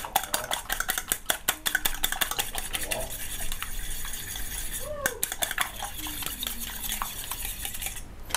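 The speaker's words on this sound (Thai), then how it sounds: "ตีจนให้ไข่เกิดฟองค่ะ" Eggs seasoned with light soy sauce are beaten briskly with a utensil in a bowl until foamy, giving rapid, rhythmic clinking and tapping strokes, close and fairly loud, with a brief pause midway before the whisking resumes.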